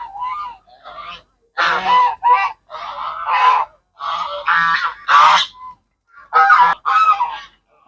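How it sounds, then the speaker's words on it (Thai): A flock of geese at a Thai temple honking loudly and repeatedly, calls overlapping in close, busy bursts with short pauses between. "ห่านเยอะเลยนะครับตรงนี้"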